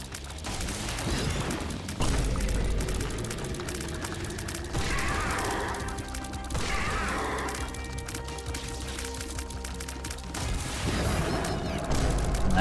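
Bombs going off in The Binding of Isaac, repeated booming blasts layered over constant game music and effects, dense and busy throughout with no talking.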